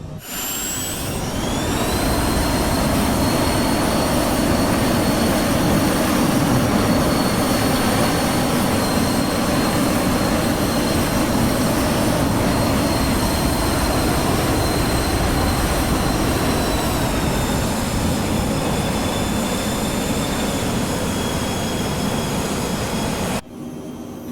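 A business jet's engines roar steadily during a touch-and-go in Microsoft Flight Simulator 2020, a loud sustained whine with rising high tones that holds evenly before cutting off, with no talk.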